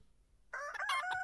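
A rooster crows in the video game Palworld, one loud bright call rising and wavering after a silent start, close and alone.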